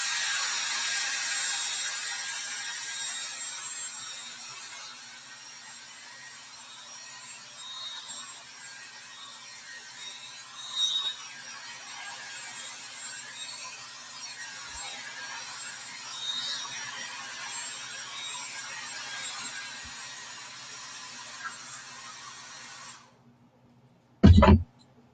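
A hair dryer blows steadily and loudly at close range, drying chalk paint on a natural burlap board, running without a break for most of the time before cutting off, followed by a brief knock.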